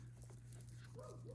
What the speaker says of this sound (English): That's my dog in the background. She's barking out in the backyard.